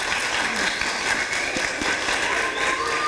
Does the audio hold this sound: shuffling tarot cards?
no